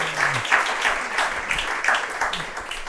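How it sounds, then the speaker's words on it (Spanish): A church congregation in a Bible class breaks into applause for the Lord, a dense, steady wash of many hands clapping at moderate volume, with a faint voice underneath. "Fuerte el aplauso a nuestro Señor."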